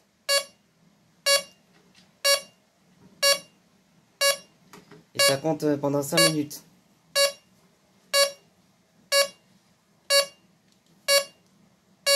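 An old Nugelec type 4 fire alarm signalling panel, model PAJ 31216D0, emits sharp evenly spaced electronic beeps about once a second during its timed countdown, with someone talking briefly over them midway.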